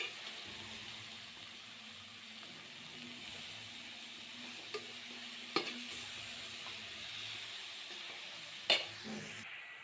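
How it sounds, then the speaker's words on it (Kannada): Grated beetroot fries in oil with a soft, continuous sizzle, broken by a few clinks and scrapes of a spoon stirring the pan, close up and fairly quiet with no talking. "ಒಂದು 5 ನಿಮಿಷ ಫ್ರೈ ಮಾಡ್ಕೊಳ್ತೀನಿ ನಾನು"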